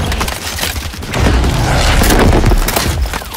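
A grenade goes off in the Battlefield V video game, a loud rumbling boom that swells and holds with dense crackling noise, alone without voices.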